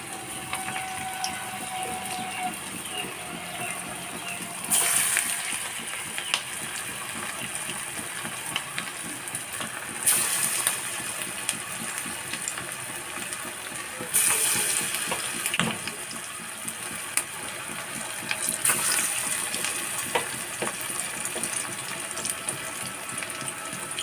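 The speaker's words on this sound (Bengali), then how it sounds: "ছোট্ট ছোট্ট করে তেলের মধ্যে গোড়া বানিয়ে ছেড়ে দিলাম আঁচটাকে একটু কমিয়ে দিলাম" Small balls of jackfruit fritter batter fry gently in hot oil over low heat, giving a steady, soft bubbling sizzle with a few louder hissing bursts, close by and without speech.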